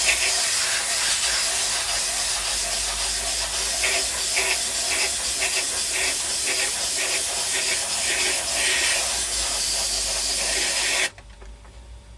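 Airbrush spraying black paint onto a T-shirt, a steady close hiss of compressed air running for about eleven seconds with faint rhythmic pulses before cutting off abruptly.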